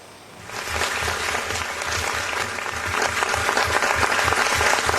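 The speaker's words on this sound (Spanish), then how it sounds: "estos son aplausos para celebrar el inicio formal de las conversaciones de adhesión de Ucrania a la Unión Europea" Sustained applause marking the formal start of Ukraine's EU accession talks. It rises from a quiet start into a loud, dense clapping crowd with a faint rhythmic pulse and grows slightly toward the end.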